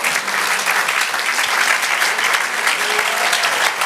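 Congregation applauding during a Spanish-language church sermon, a steady, dense wash of many hands clapping, fairly loud and continuous without pause.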